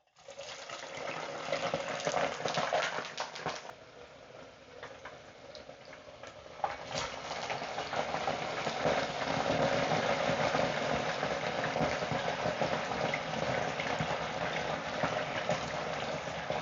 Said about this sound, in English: I'm gonna get my fries cooked up